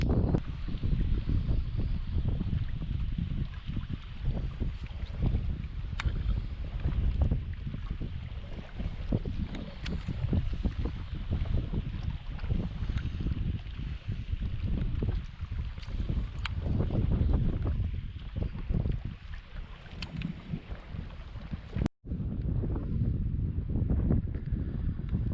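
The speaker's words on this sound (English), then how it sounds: "Still catching quite a bit of wind." Steady wind buffeting the microphone while paddling a kayak on the California Delta, a constant rough rumble lasting throughout with faint water and paddle sounds underneath and no talking.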